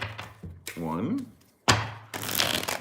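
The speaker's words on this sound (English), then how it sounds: "yep. 4 shuffles." Crisp riffling bursts of tarot cards being shuffled, with a short pause between them and a bit of voice before.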